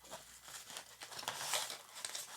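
Packaging being opened around a cheap delay pedal: crinkly plastic and paper rustle in quick bursts, close and fairly quiet, with a few sharper tearing rips partway through.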